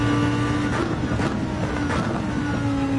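A Lamborghini engine in the racing game Gran Turismo 7 drones steadily at constant loudness, a sustained mechanical hum with tonal whine running throughout, no voices.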